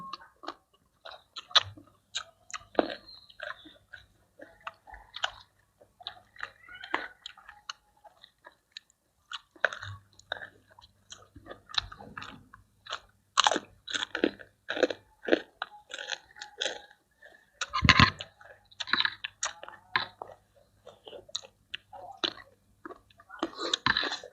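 Crunchy chewing of som tam papaya salad with crab and fermented fish, close and repeated in irregular bursts, with bites and a low hum running beneath; eating sounds dominate, with occasional brief vocal noises.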